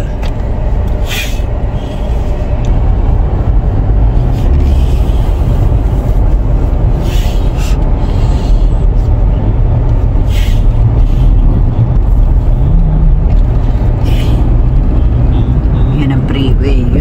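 Freeway traffic rumbles steadily in a low, dense wash close by, with occasional louder passing vehicles and hisses breaking through while a person talks over it.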